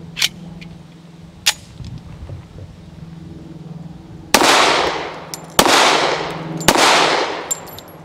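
A Llama Max-1 1911 pistol fires Remington Golden Saber 185 grain rounds at an outdoor range, three loud sharp shots with ringing decay in the second half, after a few fainter distant pops.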